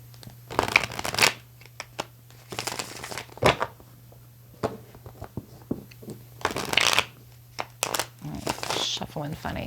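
Tarot cards being shuffled in repeated bursts of crisp riffling and flicking, fairly close and loud, separated by short quiet gaps.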